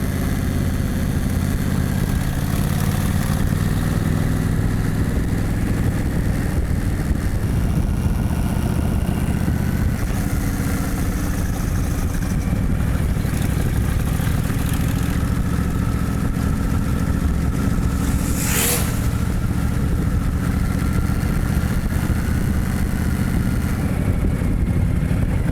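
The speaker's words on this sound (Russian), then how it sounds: "посмотреть, на что этот мотоцикл способен на высоких скоростях" Honda VTX1300 motorcycle cruising at speed on a highway, a steady loud engine drone with continuous wind rush that holds unbroken throughout, one brief brighter whoosh partway through.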